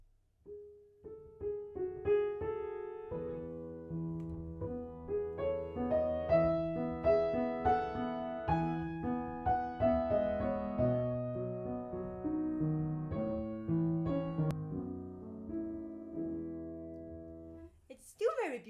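Solo piano playing Clair de Lune, the melody brought forward over a softer left-hand accompaniment, with gentle, flowing rolled chords that are close and clear, alone without talk.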